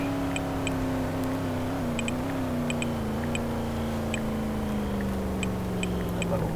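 Car engine in a racing video game idling steadily as the car pulls over after the finish on a downhill route, a continuous even drone with faint periodic ticking, loud and constant with no talk.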